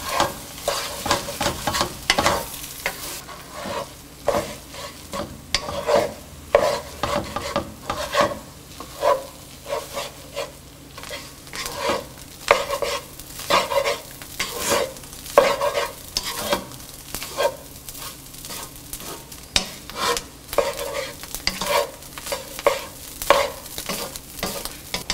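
Fish roe thoran with coconut cooks in a pan, stirred over and over with repeated scraping strokes over a constant sizzle, close and fairly loud with no voices.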